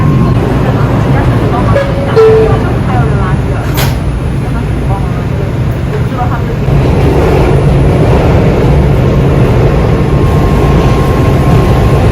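A subway train bound for 135th Street rumbles loudly and continuously, with a roaring wheel noise and occasional squeals and clanks, while muffled voices are heard through the din.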